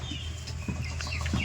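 Tiger chickens on a poultry farm cluck in short, soft bursts against a low background hum, a few separate calls spaced across the moment.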